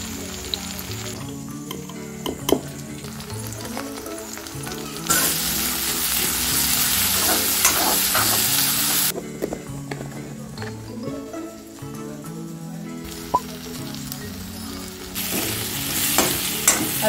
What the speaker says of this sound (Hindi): तो प्याज को अच्छे से फ्राई करना है थोड़ा हल्का भूरा होने तक